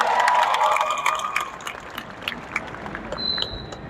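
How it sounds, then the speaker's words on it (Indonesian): An audience claps for Indonesian journalists at a gathering: a loud burst of crowd applause that gradually thins and fades into scattered claps and room noise. "Tepuk tangan untuk jurnalis Indonesia."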